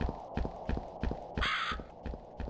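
A crow caws in the horror game Lost in the Forest, a loud harsh call over a steady rhythm of thudding footsteps in a dark night forest.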